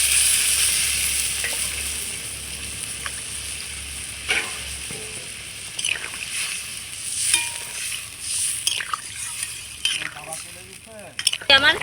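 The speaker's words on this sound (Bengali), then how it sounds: "আমার ঝোলটা খুব সুন্দর ফুটে গেছে।" A cauliflower and potato curry bubbles in its gravy in a pot, a steady soft sizzling simmer with occasional clinks and stirring sounds nearby.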